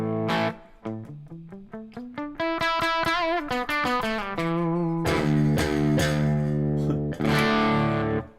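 Distorted electric guitar tones, gritty and saturated, played as a run of rising and falling notes and then loud sustained chords, heard alone and close.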